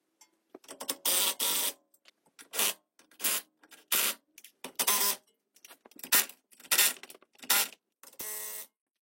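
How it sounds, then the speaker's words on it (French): A Hilti impact wrench fitted with a 36 mm 12-point socket drives a steering ball joint nut, firing about ten loud, close, rattling bursts separated by short pauses, with no talking. "Clair-choc, Hilti, douille de 36, 12 pans."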